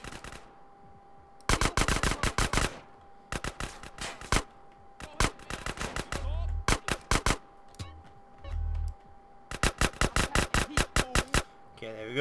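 Bursts of rapid gunfire from GTA San Andreas, loud close clusters of shots separated by short gaps, with a few heavier thumps and scattered single shots between, over a quiet game background.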